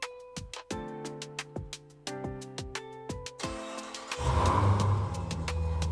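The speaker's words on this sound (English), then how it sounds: "The Jeep's going to start like normal with the remote start button on the factory fob" Jeep Trackhawk engine started by the factory remote start fob: a series of evenly spaced sharp clicks and chimes, then the engine turns over and settles into a loud, steady idle close by.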